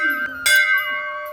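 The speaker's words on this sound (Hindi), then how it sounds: "तो यहाँ पूजा करने से ज्यादा सब कोई घंटी बजाया" A temple bell is struck once in a short burst with a bright metallic ring, amid a steady tonal background with some faint voices.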